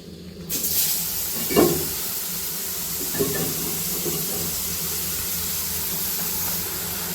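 Chhatu mushrooms tipped into hot oil for a Sambalpuri dish, setting off a loud, steady sizzle that holds close and constant from the first second on.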